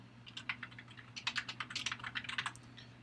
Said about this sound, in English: I can type in that name